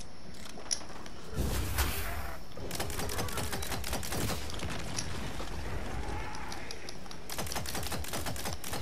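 Gunfire and magic spell effects in the fantasy shooter game Tiny Tina's Wonderlands, with rapid clattering bursts of shots and mechanical clicks, some dense volleys, at moderate level.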